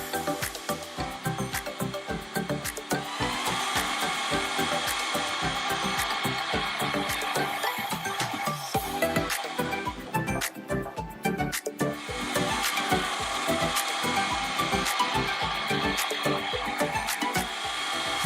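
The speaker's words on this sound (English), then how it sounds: "The end of a copper rod is faced, and then the diameter of the bushing is turned to size." A lathe faces the end of a copper rod and turns a boiler bushing to size, giving a continuous close mechanical whir with a busy scraping, chattering texture throughout and no talk.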